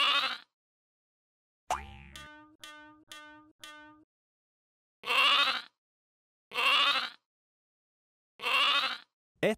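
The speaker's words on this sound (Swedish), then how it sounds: "Ett lamm." Several loud, close lamb bleats ring out one after another with silent gaps, broken by a short run of bouncy boing-like plucked tones partway through.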